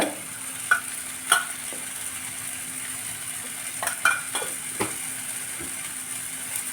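Spices such as coriander, chilli and turmeric powder frying with chicken in a pan, a low steady sizzle broken by a few sharp scrapes and taps of a spoon stirring.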